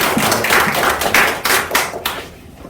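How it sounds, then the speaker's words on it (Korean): A church congregation claps in welcome for newly ordained pastors at a Presbyterian ordination service, a loud, dense burst of applause that carries steadily then thins out toward the end. "박수로 환영해 주시기 바랍니다."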